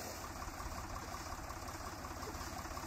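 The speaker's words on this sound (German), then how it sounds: "Sein Traktor ist nicht schwer und er fährt präzise." A light tractor engine idles steadily on a farm field, a low, even mechanical hum with a faint vibration, moderately quiet and alone with no voices.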